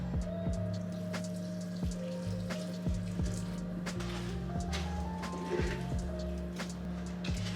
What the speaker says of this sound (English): Now we're gonna water the couch plants.